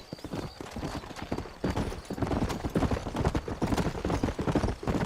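Horse hooves gallop at a steady, rapid clip-clop across the Red Dead Redemption Western video game, loud and close throughout, with a faint whinny mixed in.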